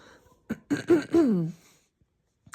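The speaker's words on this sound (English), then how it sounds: "my constant clearing my throat" A single short throat clearing, close and fairly soft, with a faint click before it and quiet afterward.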